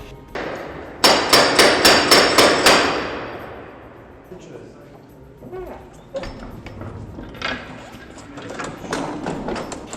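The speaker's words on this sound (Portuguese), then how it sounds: "Fecham-se suas pesadas portas de madeira." Heavy wooden doors of the Basilica of the Holy Sepulchre close in a burst of rapid, loud wooden knocks and thuds, followed by quieter scattered clunks and echoes in the stone interior.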